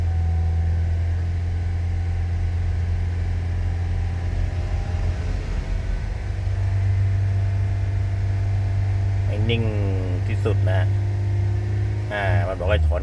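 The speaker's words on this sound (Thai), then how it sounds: "พยายามคุมรอบให้ได้นะฮะ มันกำลังอ่านค่าให้เหยียบกระเร่งนิ่งๆนะฮะ" A car engine runs on LPG while an Energy Reform gas system is tuned, holding a steady low drone at constant revs throughout, close and continuous, with someone talking over it toward the end.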